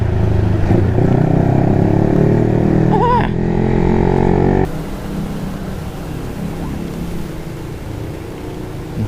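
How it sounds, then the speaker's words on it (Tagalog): A Yamaha Sniper motorcycle engine revs loud and close under throttle, a steady droning buzz for about four seconds before dropping to a rougher, lower idle rumble. "Sarap po pag binibigyan mo ng silinyador."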